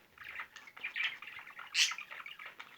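Pet budgerigars chirp indoors, giving a string of soft, close twitters and short chirps with one brighter, louder squeak partway through.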